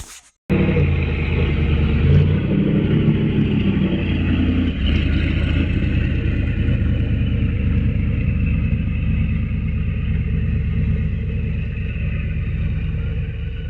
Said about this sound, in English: It's a 74 Porsche 914 with LS6 conversion, and then we've added a turbo to it.